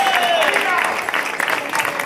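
Crowd applause during the village festival of Fonz, Spain in 2017, clapping heard with overlapping voices and a whistle-like tone early on, fairly loud and continuous.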